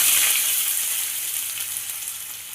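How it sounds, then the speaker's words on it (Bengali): Garlic and chopped onion fry in hot oil in a pan, giving a steady, close, bright sizzling hiss that fades slightly over a few seconds, with no voices. "এগুলো লাল লাল করে ভেজে নেব।"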